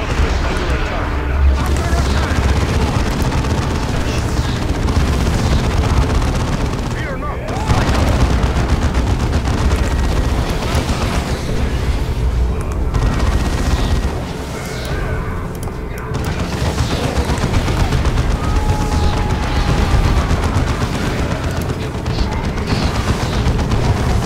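Dense gunfire in the video game Chaos Rising, continuous rattling bursts and booms layered with explosions, loud and unrelenting, with shouted voices mixed in.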